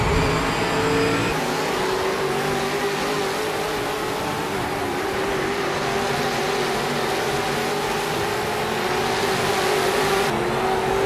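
A race car engine in Project Motor Racing revs hard and steadily during heel-toe downshifts, with a loud, continuous whine that blips and shifts pitch near the start and end.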